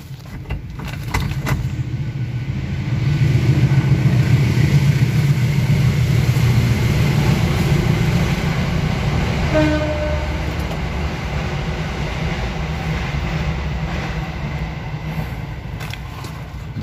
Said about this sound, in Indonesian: Untuk suara mesinnya seperti ini ya.